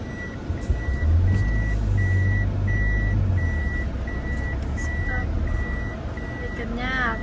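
A truck approaches with a low engine rumble and regular, evenly spaced reversing beeps, moderately near; a voice speaks briefly near the end.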